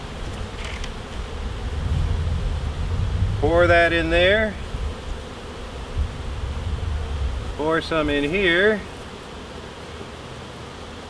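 Steady honey bee buzzing hums throughout around a hive fed sugar syrup, with a person speaking briefly over it twice.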